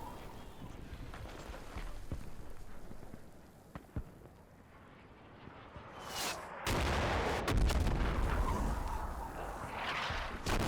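Mortar rounds landing on a recoilless rifle team in the wargame Combat Mission Shock Force 2, heard as a string of sharp booming blasts and crackling impacts. A dense burst comes late, over a steady battlefield rumble.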